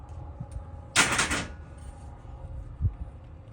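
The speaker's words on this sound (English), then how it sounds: "Cut the wire first." A single short crisp snip of trailer jack wire being cut, fairly close, followed by a faint thud and quiet background.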